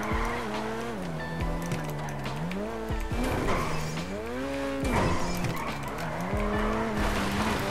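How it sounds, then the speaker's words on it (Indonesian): A Mazda RX-7 VeilSide drifting in GTA V, tires squealing in long wavering howls that rise and fall in pitch over engine roar, loud and continuous across several slides. "biasanya aku latihan ngedrift nah kayak gini nih"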